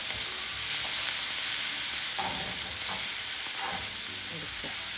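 A leafy curry frying in a pan as it is stirred, giving a continuous close sizzle with occasional scraping clinks of the spoon against the pan.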